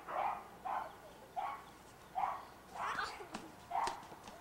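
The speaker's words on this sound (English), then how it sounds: "Dogs barking like crazy." Dogs barking in a neighbor's yard, a series of about six or seven sharp barks at irregular intervals, somewhat distant and moderately loud, with no talk over them.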